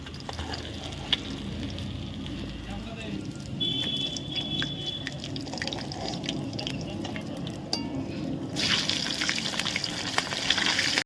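Fish frying in oil for a home picnic meal, a steady close sizzle and crackle running throughout, with occasional utensil clinks and talk over it.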